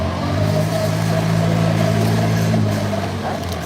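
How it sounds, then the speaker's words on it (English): Garbage truck engine idling and revving while collecting trash in the Old City, a loud, steady low drone that holds throughout at close range. "That's the truck that's taking the trash out."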